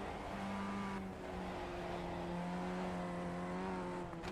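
Race car lapping the Nordschleife in a racing simulator, a steady loud engine drone that shifts pitch under throttle and gear changes, with no one talking.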